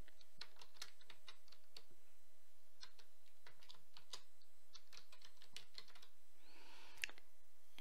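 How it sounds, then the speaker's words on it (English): Rapid, uneven clatter of keys on a computer keyboard as text is typed at close range, with a brief softer swipe near the end and no talking. "I'm going to use some text and just type up happy birthday"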